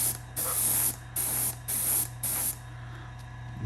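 Airbrush spraying Pro Acryl white primer in five short, even hissing bursts with brief gaps between them, close to the microphone over a low background hum, with no talking.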